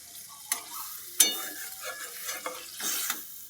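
Gravy poured into okra and potato curry frying in a pan, with a spoon scraping and stirring in short strokes and soft sizzling underneath, close and fairly quiet.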